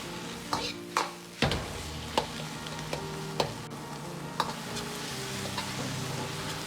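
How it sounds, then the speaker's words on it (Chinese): Strips of pickled cabbage are stir-fried in a wok over a low sizzle, with a spatula scraping and clanking against the metal in irregular strokes and no talk. "酸菜也稍微多煸炒下"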